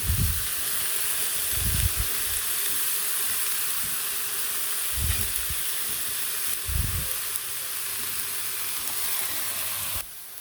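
Leafy greens seasoned with turmeric and salt cook in a pot over a clay stove, giving a steady close sizzle and steamy hiss with a few soft low thumps of stirring. No one speaks.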